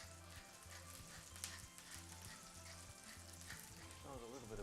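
Sliced parsnips sizzle and crackle steadily in a hot pan without butter, a constant close frying hiss with low background hum.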